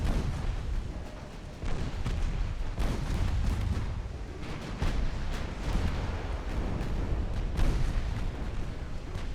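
Cruiser guns fire in a naval battle in Ultimate Admiral Dreadnoughts, deep booming salvos landing every second or two over a rumbling low roar, heavy and close with no talk.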